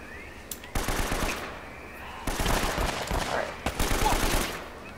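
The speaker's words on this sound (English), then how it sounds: "She's like shooting without looking." Automatic gunfire from the video game Uncharted: Drake's Fortune rattles out in three separate bursts with short gaps between them, fairly quiet and set against a low background.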